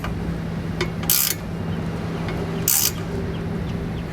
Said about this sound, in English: tighten down all of our bolts to make them nice and tight